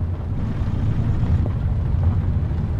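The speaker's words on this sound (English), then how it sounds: "Oh, now I got to get used to this engine sound." A heavy truck engine in the driving game American Truck Simulator, pulling away in fourth gear, gives a steady, loud low rumble that drones without a break.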